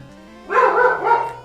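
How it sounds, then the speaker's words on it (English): A dog gives one drawn-out, loud, close bark that rises and holds with a slightly whining tone, over faint background hum. "Stupid dog."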